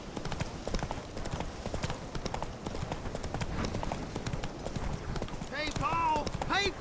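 Roach the horse's hooves clip-clop at a steady trot in The Witcher 3, a continuous rhythmic patter under a voice, with a brief whinny near the end.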